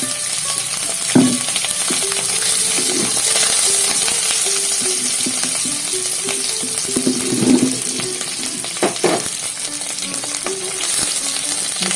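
Green chilies and curry leaves fry in hot tempering oil for a wheat rava upma, a steady loud sizzle with scraping stirs and a few sharp spatters, no talking.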